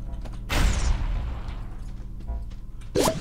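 A gun fires a shot in the video game Supraland: one loud boom at about half a second, a longer rumbling tail, then a second sharp burst near the end, with no talk.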